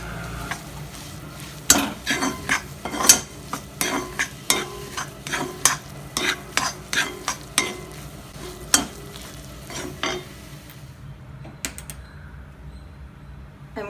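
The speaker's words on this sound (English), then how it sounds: "Now add the remaining turmeric powder and samba powder. Mix it well and saute for 2 to 3 minutes." Turmeric and sambar powder being stirred and sautéed in a pan, a steady series of scraping stir strokes over a soft sizzle, fading toward the end.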